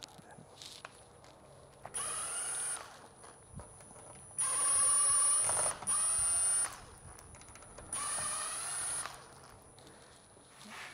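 Screws being backed out of an exterior door's handle and lock hardware with a power driver, heard as several whirring bursts of a few seconds each separated by quiet gaps and small clicks.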